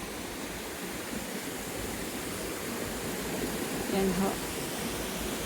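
A river flows past a farm lot, a steady, soft wash of moving water running continuously, with a brief spoken phrase near the end.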